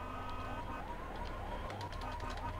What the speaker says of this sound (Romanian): Nu se oprește alarma?